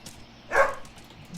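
A single dog bark sounds in the horror video game Helltown, a short, moderately loud yelp that rises out of quiet background ambience.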